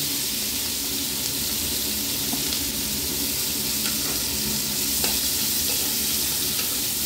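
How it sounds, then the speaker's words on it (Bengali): Nigella seeds and a green chilli sizzling in hot oil, a continuous close crackling fry with faint scattered pops, steady loudness throughout and no voices. "এবারে আমি সেই তেলে একটু কালো জিরে আর একটা কাঁচা লঙ্কা দিয়ে দিলাম।"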